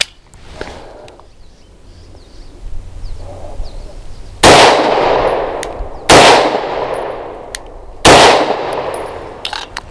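A CZ 75 BD pistol fires Federal lead-free 70 grain frangible rounds: three loud, sharp shots spaced about two seconds apart, each ringing out with a short decay, preceded by quieter handling noise.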